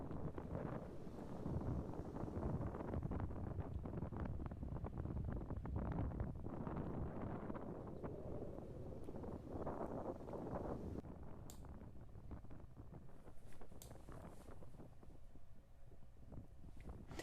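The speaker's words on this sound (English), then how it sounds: "the wind is just blowing it away" Strong wind roars across a stormy beach at low tide after days of storms, a steady loud rushing buffet on the microphone throughout, easing slightly toward the end.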